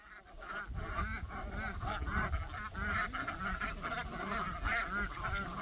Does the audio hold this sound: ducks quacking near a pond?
yes